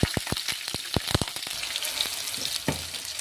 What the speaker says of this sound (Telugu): బ్రౌన్ కలర్ వచ్చాక పచ్చిమిర్చి వేసుకోవాలి.